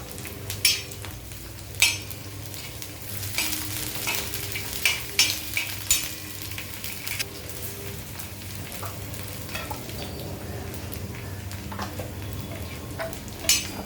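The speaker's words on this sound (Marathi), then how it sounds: "भेंडी छान फ्राय झाली आहे" Okra (bhindi) fries on a tawa with a constant sizzle and hiss, broken by sharp scrapes and clacks as a spatula turns the pieces at irregular intervals.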